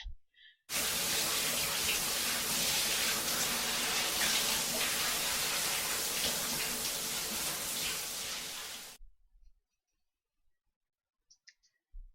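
Shower water runs in the horror video game Paranoiac, a loud, steady broadband rush lasting about eight seconds before cutting off abruptly, followed by a few faint clicks in near silence.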